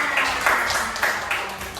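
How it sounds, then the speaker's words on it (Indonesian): Schoolchildren in a classroom clap for a classmate during a religious studies lesson, a brief burst of quick clapping with a loose, slightly rhythmic pulse and no talking. "tepuk tangan"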